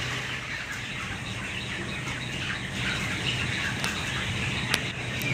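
A dense, constant chatter of many broiler chickens fills a poultry farm shed, steady and close, with a few sharper squawks rising above the flock.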